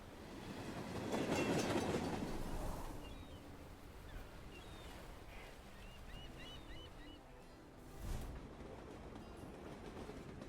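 A train rumbles past in the video game Whisper of the House, swelling to a soft roar and fading, with a brief clack later over quiet game sounds.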